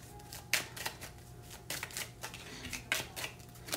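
Tarot cards are shuffled by hand in close, crisp riffling bursts, several quick rounds of fluttering card slaps separated by short pauses.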